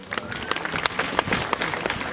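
Mourners applaud at a family tribute held at a Kenyan memorial gathering, with scattered, uneven claps that rise and fall for about two seconds, moderately loud and spread through the room.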